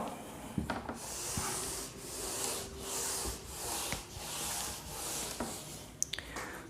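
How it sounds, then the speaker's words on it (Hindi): Steady back-and-forth rubbing of a duster erasing writing from a classroom board, rhythmic swishing strokes roughly every half second, close and moderately loud, with no talk. "मैं इसको अब रब कर दे रहा हूं"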